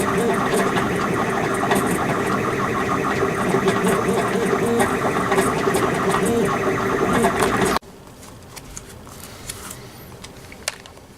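A home-built 3D printer printing prototype parts gives a loud, steady mechanical whir with buzzing motor tones for most of the stretch, then drops abruptly to a much quieter hum.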